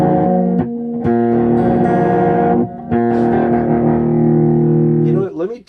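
Loud distorted electric guitar power chords, sustained and heavy, with a couple of brief breaks between changes.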